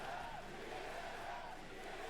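A large crowd at an Apex Legends ALGS Championship finals roars and cheers continuously. The sound is a dense, sustained wall of voices with no pauses.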